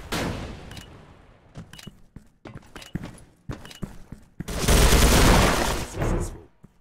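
A video game plays sharp shots and short bursts of gunfire amid clattering footsteps, ending in a loud sustained blast of noise.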